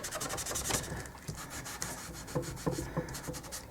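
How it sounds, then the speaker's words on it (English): Paint is rubbed off a maple leaf decoration with quick back-and-forth strokes, a soft, close, scratchy rubbing in irregular bursts with no talk. "Rub it off."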